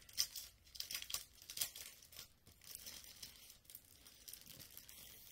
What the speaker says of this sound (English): Crinkle, crinkle.